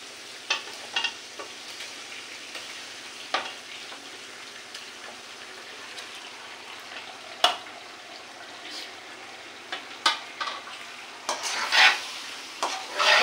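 Meat pieces go into a frying spice paste in a home kitchen, with soft sizzling under scattered scrapes and clacks of a spoon stirring, growing busier and louder toward the end.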